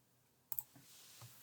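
Quiet computer mouse clicks at a desk, a sharp double click followed by a couple of fainter taps against a low background hum. No one speaks.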